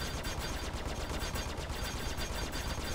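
Rapid sustained gunfire in a fighter-versus-multicrew video game, a fast, steady stream of shots rattling continuously and loudly for a few seconds with no voices over it.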